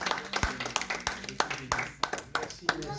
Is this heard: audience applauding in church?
yes